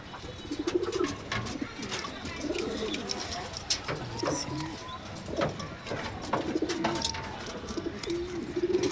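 Racing pigeons, including a male bird, coo repeatedly nearby in low throaty rolling phrases that overlap one another, with soft fluttering and shuffling in between.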